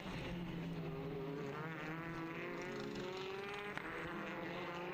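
TCR touring race cars at Balaton Park run down the back straight, one slipstreaming close behind another, a steady loud engine drone with rising harmonic whine held throughout, no talk.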